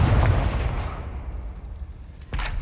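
Confringo explosive spell blast from Hogwarts Legacy: a heavy boom at the start that decays into a rumbling tail, followed by a second sharp burst near the end.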